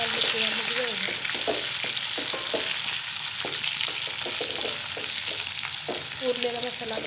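Stuffed bitter gourds fry loudly in a pan, a dense continuous sizzle with repeated scraping and knocking as they are stirred.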